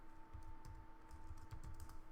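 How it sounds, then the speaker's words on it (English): Keys clatter in a quick, uneven burst as a command is typed on a computer keyboard, faint and close against a steady low hum, with no voices. "So I'm going to type in the command."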